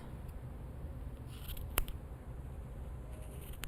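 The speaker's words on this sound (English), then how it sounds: "Then you are going to use some scissors and cut your loops" Scissors snip through the wrapped yarn loops of a pom-pom being made for an earflap hat: a single sharp cut near the middle, over a steady faint room hiss, no talking.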